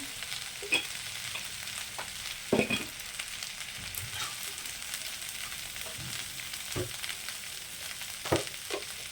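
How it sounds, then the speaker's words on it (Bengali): Gobindobhog rice frying in ghee in a pan, a steady soft sizzle broken by occasional sharp scraping stirs, close and moderately quiet with no talking. "এই যে ভাজার সময় চালটা একটু যখন ভাজা হয়"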